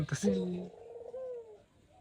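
A dove near its eggs gives a soft, drawn-out coo, close and faint, partly overlapped by a brief voice at the start.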